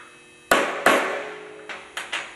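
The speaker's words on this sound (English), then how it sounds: "And pop this roll pin through." Sharp metallic hammer strikes drive a roll pin into a Honda CRF50 front fork: two loud close blows, a pause, then three lighter taps, each ringing briefly in a quiet workshop.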